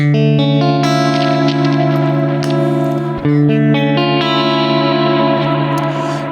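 A sustained electric guitar chord played on coil-split pickups rings out with a chorus-like shimmer, struck again partway through and left to sustain.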